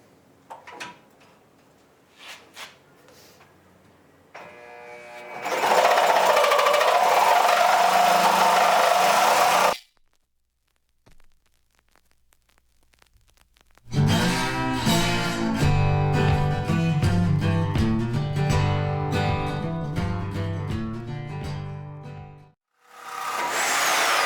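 Sawzall reciprocating saw cutting through a 1962 Ford F100 Flareside truck frame, loud and harsh in two long bursts separated by a quiet pause, with metallic clatter and handling noises before and after.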